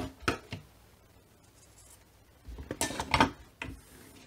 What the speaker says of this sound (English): next I'm going to trim my corners on an angle, carefully, being careful not to cut the stitches I made